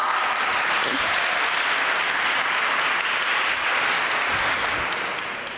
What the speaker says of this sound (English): Señor Steve Llano, please give him a warm round of applause